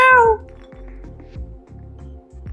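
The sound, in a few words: cat meowing in the video game Stray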